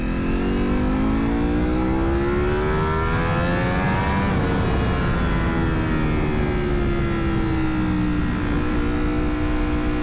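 A heavy motorcycle fitted with a very expensive aftermarket exhaust revs and accelerates through gears, its engine note rising, dropping at a shift, then climbing again, loud and close throughout.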